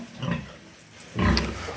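A sow grunting in a pen on a farm, two low, rough grunts close by, the second louder and longer, with no talk over them.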